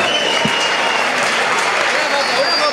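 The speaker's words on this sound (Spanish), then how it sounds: "¡Un aplauso!" Outdoor crowd applauding at a prize ceremony during the La Cipotegato festival, a dense wash of clapping close and loud, with voices and chatter mixed in throughout.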